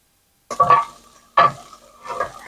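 Tater tots frying on a hot griddle give a close, steady sizzle in three bursts, with brief stirring or scraping sounds and no talking.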